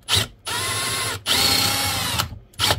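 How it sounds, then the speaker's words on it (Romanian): A Hikoki or Ruko power drill bores into material, its loud whirring motor running in three sustained bursts, each separated by a brief stop, close and dominant with no talk. "Și am găurit"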